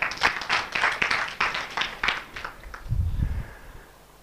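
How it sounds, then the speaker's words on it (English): A small audience at a personal performance training session claps, with brisk, fairly sparse hand claps ringing out close by for a couple of seconds. The clapping fades out, followed by a brief low murmur and then near quiet. "Okay, round of applause, please."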